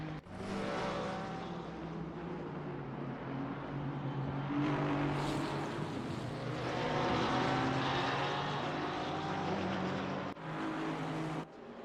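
Porsche race cars roar past on the Zolder circuit, a loud continuous engine drone that swells and shifts in pitch as cars pass, with a brief drop near the end.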